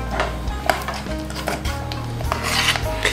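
Thickening peanut tofu of peanuts and kudzu starch being scraped and stirred in a pot, giving repeated rasping scrapes and dull knocks against the pan in an uneven rhythm, close up with no talk.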